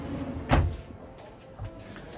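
A single soft thud of a drawer being pulled open in a Chausson 660 motorhome, then quiet rustling and a faint knock nearby.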